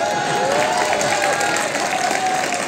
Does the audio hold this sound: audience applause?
yes